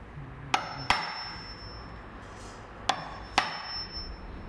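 Four sharp hammer blows strike a chisel cutting a striker recess into a timber door frame, coming in two pairs with pauses between, close and crisp over a quiet background.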